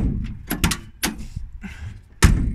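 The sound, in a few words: car door being opened and closed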